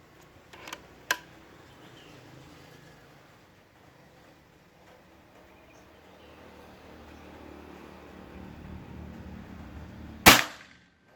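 A single sharp shot from a full-CNC Gen 5 Bocap Pajero PCP air rifle with sonokeling wood cracks near the end, after a quiet stretch with a couple of faint clicks early on.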